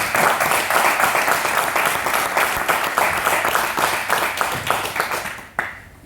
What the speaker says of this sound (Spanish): lo único que merece esto es, creo yo, para romper un poco el hielo, es un fuerte aplauso al autor